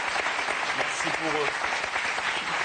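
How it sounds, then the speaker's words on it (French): Studio audience applauding on a French Sunday variety TV show, a dense steady wash of clapping filling the room throughout, with a voice speaking briefly over it. "On les applaudit très fort."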